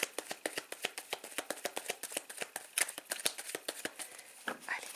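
Oracle and tarot decks shuffled by hand in a steady run of quick, crisp card riffles, close and fairly loud, with a few heavier flutters near the end and no talking.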